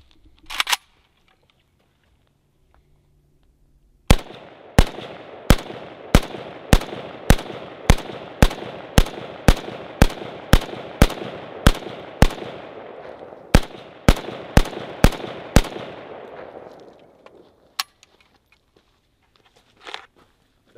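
A VSKA AK47 rifle fires rapid single shots in a long, evenly spaced string of about twenty loud, sharp cracks with ringing echoes outdoors in cold weather, followed by a pause and a couple of faint sounds.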